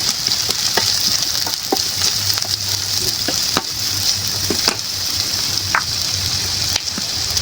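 Chopped onions frying in oil in a wok for a coconut-milk duck curry, giving a steady, close sizzle with scattered clicks and scrapes of stirring throughout, no talk.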